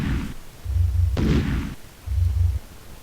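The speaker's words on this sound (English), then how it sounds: "The explosion disables the force field generator." A detonator blast at a force field generator in the Space Quest III video game: a sharp burst cracks out between two deep, rumbling booms, loud and close with no speech.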